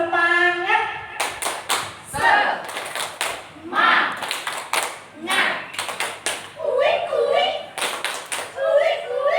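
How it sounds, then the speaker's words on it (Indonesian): A group of participants claps a rhythmic spirit-clap routine during a teacher training session on positive school culture, with sharp claps in patterned bursts between stretches of voice and chant. "Oke, tepuk semangat."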